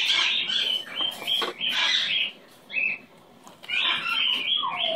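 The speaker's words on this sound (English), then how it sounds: "Ronnie, you're a smart bird." A pet bird chirps and squawks loudly and close, in several shrill bursts separated by short pauses, with no voices over them.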